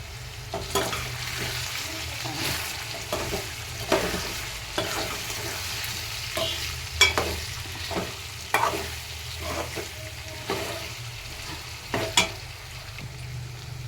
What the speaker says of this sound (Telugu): వంకాయలు అయితే మగ్గేయండి